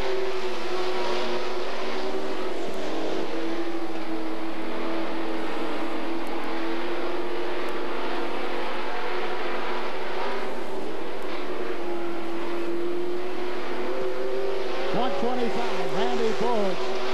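Dirt-track race cars roar around Gallatin Speedway in Belgrade, Montana, at a 2001 race: a steady, droning engine drone that rises and falls as cars pass, with revving near the end and an announcer talking over it.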